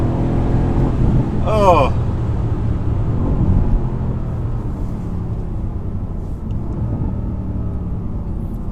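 A 2018 Mercedes-Benz C63S AMG sedan accelerating hard, its engine rumble building through a rising whine and a gear change, loud and close from inside the cabin, with a brief exclamation from a passenger.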